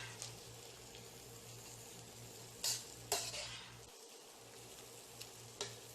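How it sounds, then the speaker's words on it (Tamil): Vegetables for fried rice being stirred in a pan, a soft sizzle under a few scraping, clinking strokes of a spatula against the metal, quiet and close. "முதல்ல லேசாக கிளறிக்கலாம்"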